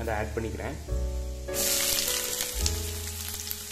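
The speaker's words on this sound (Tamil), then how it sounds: "நல்லா ஃப்ரை ஆகட்டும்." Oil sizzles loudly as chopped onion is dropped into a hot pan, the frying swelling into a steady crackle while a person speaks over it.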